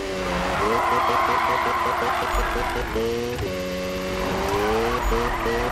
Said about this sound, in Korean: 아, 기가 막힌 드리프트.